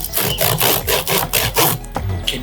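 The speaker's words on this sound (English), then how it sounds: "Can you hear that sound of the crust?" Rhythmic crunchy crackling of a bread crust as IREKS Mediterranean baked goods are bitten and chewed up close, in about seven regular bursts with no talk over it.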